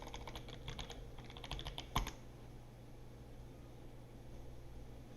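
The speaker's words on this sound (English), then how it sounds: "I apparently am having problems typing" Keystrokes on a computer keyboard tap in a quick, close run during the first two seconds, ending in one sharper press, then only a steady faint background hiss remains while someone enters Linux server commands.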